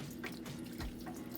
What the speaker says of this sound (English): I'm just gonna be adding a little bit of water here